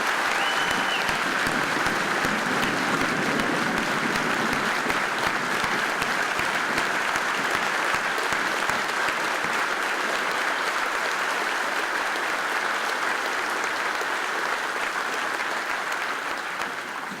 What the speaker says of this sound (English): please join me in a round of applause for these River Raiders